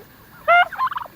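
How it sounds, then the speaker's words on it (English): Harvest Gold turkeys gobbling close by, one loud rattling gobble followed by a quicker burst of throaty clucks, alone without talk. "And here is Harvest Gold turkeys"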